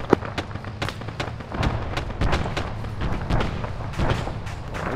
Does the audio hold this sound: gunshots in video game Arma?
yes